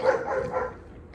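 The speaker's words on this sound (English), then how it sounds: "dog has to start barking now, right?" A dog barks a few times, loudest at the start and fading, outdoors near a parked 2024 Ford Ranger 4x4 pickup.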